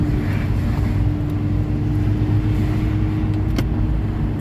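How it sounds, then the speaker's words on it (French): A warmed-up car engine runs with a loud, close, throaty drone, likened to a race car. The steady rumble continues without a break and no one talks over it. "elle fait un peu le bruit d'une voiture de course"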